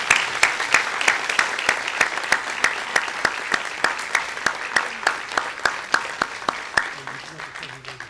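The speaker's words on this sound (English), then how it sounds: "If we can all give them a round of applause." A crowd at a police officers' recognition awards ceremony applauds, a dense, steady wash of clapping with a few sharper claps standing out in a regular beat, fading slightly as a voice begins at the end.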